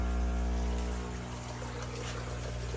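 A small water pump runs at a crayfish pond, moving pond water with a steady hum of stacked tones beneath a soft trickling, pouring wash, fairly quiet and continuous.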